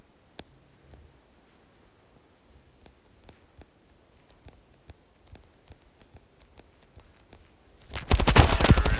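Gunfire in the mobile shooter Standoff 2 during a duel, with a loud shotgun blast near the start, then a string of sharp spaced shots of varying loudness, ending in a dense roaring burst of noise.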